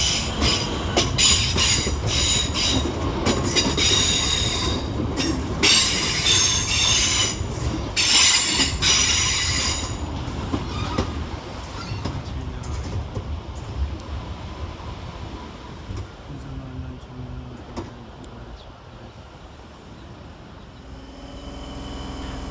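A Southeastern train made up of units 465179, 465929 and 466006 arrives at London Waterloo East station on the Sevenoaks to Charing Cross service, with loud rumbling, clattering wheels and screeching squeals that fade as it slows.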